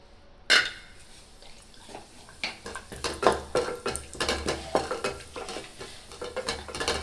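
Cashews frying and being stirred in hot ghee in a pan over a gas flame, a steady sizzle broken by repeated scraping and clinking of a spoon against the vessel, close and fairly loud.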